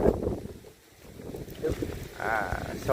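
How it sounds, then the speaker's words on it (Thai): Gusty wind buffets the microphone at a house where new floor tiles are being laid, a low rumbling roar that swells and eases while people talk nearby. "อุ้ยลมเนาะ"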